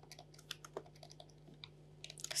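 Keys tapped on a computer keyboard, an irregular run of light clicks at moderate pace, close and quiet, ending in a brief louder clatter.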